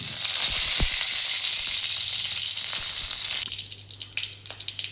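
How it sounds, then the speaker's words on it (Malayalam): Curry leaves hit hot coconut oil with a loud, close, steady sizzle that spits and crackles, then drops to a quieter fry with a few pops; no one speaks. "നമ്മൾ കറിവേപ്പില ചേർക്കാണ്"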